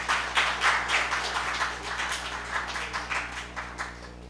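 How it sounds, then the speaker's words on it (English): An audience at a speech festival session in Grenada applauds after a speech, a moderate, somewhat distant patter of clapping that gradually thins out over four seconds above a steady low electrical hum. "The applause did not do it justice"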